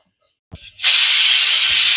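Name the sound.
pressure cooker whistle releasing steam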